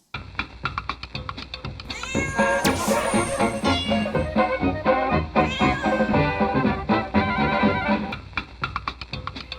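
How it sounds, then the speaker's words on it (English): A cat meows repeatedly in long, drawn-out wails over a steady background, fairly loud and close, with a continuous harmonic tone throughout. "Meow."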